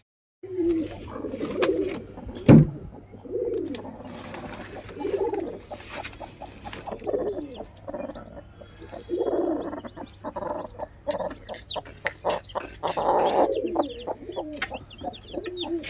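Newly hatched chicks, brown, white and black, with hens cluck and peep near a new home, in soft repeated calls scattered through a steady low background hum.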